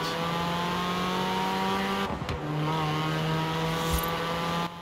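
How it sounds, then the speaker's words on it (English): Car sliding on a handbrake turn in Forza Horizon 4 winter season, a steady engine drone that dips briefly as the revs shift, then carries on with a faint skid. "A little bit of handbrake, so the back end slides out."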